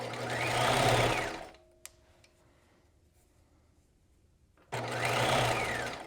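Sewing machine stitching the raw edges of knit fabric for a jewel neck top, two loud steady whirring runs separated by a quiet pause with a single click.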